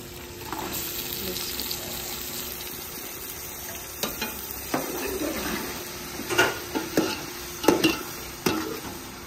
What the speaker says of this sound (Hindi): टमाटर प्याज मिर्ची ऐड कर रहा हूँ